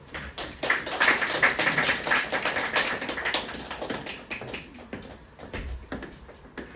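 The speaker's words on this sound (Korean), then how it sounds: "자, 박수로 맞이해 주시죠." A small audience at a school exam-strategy information session claps to welcome a math teacher, with scattered, uneven hand claps that stay fairly quiet and thin out toward the end.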